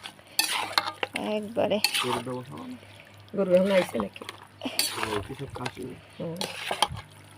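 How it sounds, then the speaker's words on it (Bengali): Large pieces of marinated goat meat are mixed by hand in a village kitchen, making soft wet squelching and stirring sounds in short bursts while someone talks throughout. "সব ভালো করে মাখে নিচ্ছি।"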